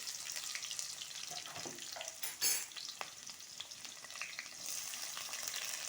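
Onions frying in a pan: a steady soft sizzle with scattered stirring scrapes and a brief louder clatter partway through, continuing alone without speech.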